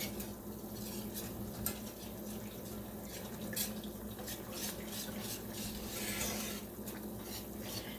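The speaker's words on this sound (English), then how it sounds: "I use a whisk a lot when I'm doing stuff like this because it's so good to help with lumps" A whisk stirs mushroom gravy for pork tenderloin in a pan, a steady wet scraping and swishing with faint clinks against the metal, close by and continuous with no talk.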